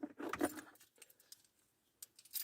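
Car key for a Citroën Xantia jangling as it is handled, a loud close burst of metallic clinks at the start, then scattered light taps and a brief rattle again near the end, with no talking.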